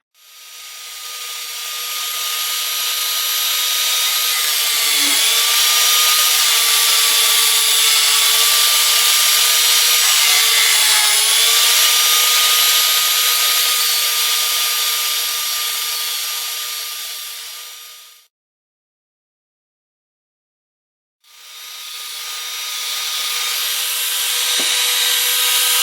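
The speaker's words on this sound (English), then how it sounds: "We'll drill us a hole in yonder, and then we'll come up here and drill another hole in there and cut them off." A power drill bores and cuts holes in wood for a battery box for a hit and miss engine, a loud, close, steady whine held for about eighteen seconds, then a pause and a second burst.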